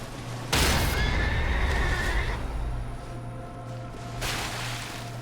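Torrent, the spectral steed in Elden Ring, spooks with a loud, close whinny that rises and then fades, followed by a second, softer neighing burst moments later.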